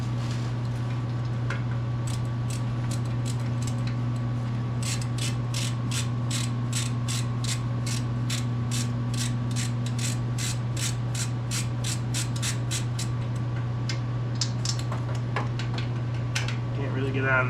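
A ratchet wrench tightening the front exhaust pipe on a car, its quick regular clicking starting after a pause and running for several seconds over a steady mechanical hum.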